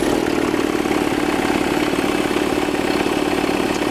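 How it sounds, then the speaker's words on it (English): A Primerite trash pump engine idles steadily, a constant mid-pitched drone held at an even level throughout, close by and with no voices. "You're gonna turn the key to the right, and it's gonna crank over, and it's gonna sit there and idle."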